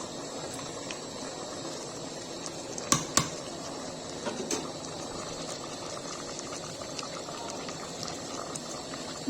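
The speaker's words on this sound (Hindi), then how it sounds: "देखिए गाइस सब भूंज रहा है" Masala with tomato and chicken roasting in a pan, a soft steady bubbling sizzle throughout with a couple of sharp clinks from stirring, no talking.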